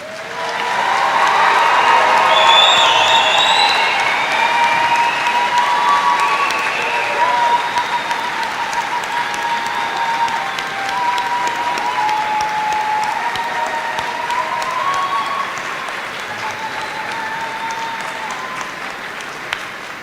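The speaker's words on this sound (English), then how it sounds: "as we applaud the graduating class of 2026" Commencement audience applauding the standing graduating class of 2026 at a college ceremony, a long, steady, loud wash of clapping from a large crowd that holds for about twenty seconds without talk.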